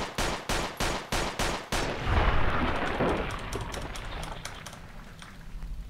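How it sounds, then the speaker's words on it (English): Makarov pistol fire in a Fallout New Vegas weapon mod: five sharp, evenly spaced shots in quick succession, followed by a heavy booming roar that slowly fades with faint clicks and crackles. "So we'll fire a few rounds a second here."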